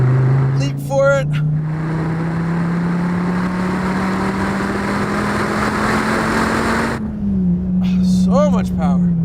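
An SRT Viper GTS accelerates on a race track, its engine a loud sustained drone rising steadily in pitch, then dropping with a shift near the end, with brief voice sounds at the start and finish.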